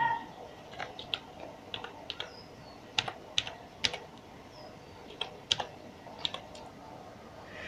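Keys clatter on a computer keyboard as a YouTube channel name is typed, irregular bursts of close, crisp clicks with short pauses between words, over a faint steady room hiss.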